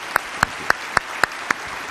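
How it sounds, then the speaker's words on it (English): An audience applauds at the close of a NASA panel discussion on the Columbia recovery and reconstruction, with crisp, regularly spaced claps close by and no speech over them. "I'd say a round of applause for these great people"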